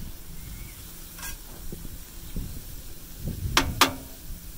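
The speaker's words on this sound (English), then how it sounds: "Get that butter right in the middle with the garlic. Let that just kind of cook down" Butter and garlic sizzle on a Blackstone griddle, a soft steady frying hiss with a few sharp metallic spatula scrapes near the end, close and moderately quiet.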